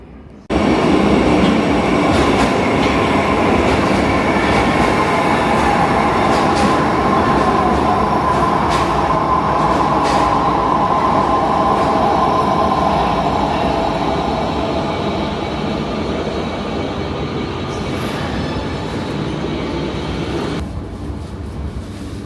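A Moscow metro train rumbles loudly through Park Pobedy station, steady rolling roar with rhythmic wheel clatter and faint squeals, fading slightly near the end.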